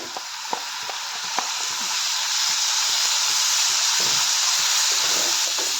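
Ground coconut paste hits a pan of onions frying in oil, setting off a loud, steady sizzle and hiss that builds and holds, with faint scraping stirs ticking through it.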